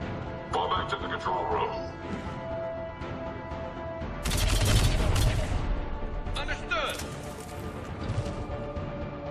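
Gunfire during a Mass Effect 3 firefight, with bursts of shots and impacts clustering in the middle and near the end, while someone talks over the action.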